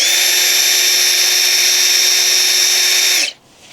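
An AEG Subcompact cordless drill running on a 5-amp battery spins at full speed, a loud steady high whine held for about three seconds before abruptly winding down to quiet.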